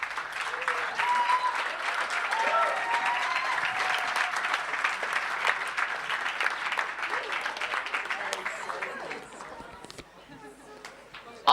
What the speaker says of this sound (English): So give them again a big round of applause